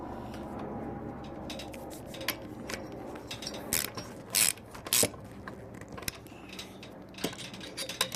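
Bolts being tightened on the ignition of an ALDI Ferrex engine that has no spark, giving close metallic ratcheting clicks and clinks with a few sharper knocks against a steady low hum.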